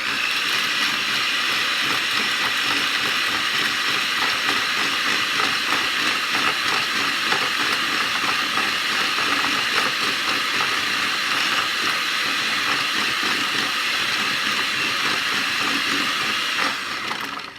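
An electric mixer whips soft butter and sugar for cookie dough, whirring steadily at high speed for a long stretch, a constant loud buzzing drone that cuts off at the end.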